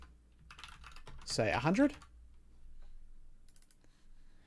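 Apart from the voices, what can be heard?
clicky mechanical keyboard typing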